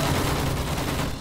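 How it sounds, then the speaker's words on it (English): Rapid gunfire in the Battlefield 1 video game, a dense, continuous burst of overlapping shots with no pauses over a short stretch. "Why is there gunfire?"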